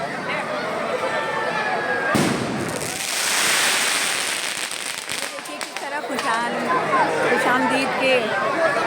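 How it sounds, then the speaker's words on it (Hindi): Firecrackers burst at a festive religious celebration, sharp cracks and crackling pops scattered through the clip among crowd chatter and a busy outdoor bustle. "पटाखे फोड़े जा रहे हैं"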